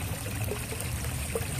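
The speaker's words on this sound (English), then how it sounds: "I'm topping up the pond system. I just gently let the water trickle in." Water trickles gently into a garden pond system in December, a soft continuous burble with faint droplet plinks, heard alone without talk.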